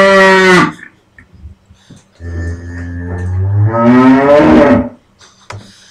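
Cattle lowing loudly in two long, drawn-out moos, a short one up front then a sustained bellow after a quiet gap, close and clear with no talking.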